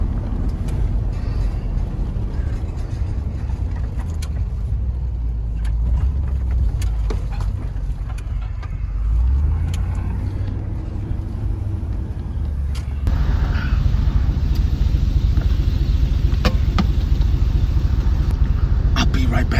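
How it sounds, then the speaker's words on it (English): Traffic at a busy four-way intersection in a residential area, heard as a steady low rumble of engines with vehicles passing. The noise grows louder toward the end. "this intersection definitely gets a lot of traffic"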